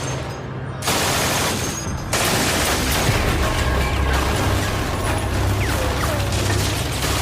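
A dense, continuous rattle of extremely rapid automatic fire from an MG-42 machine gun, the shots blurring into a tearing roar with mechanical clatter throughout.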